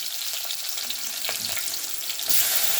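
Onions hitting hot oil in a pan for an okra tamarind curry, a dense, loud sizzle throughout that swells stronger near the end with faint stirring, no speech.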